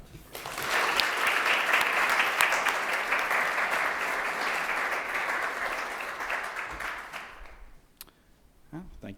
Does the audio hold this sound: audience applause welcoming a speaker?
yes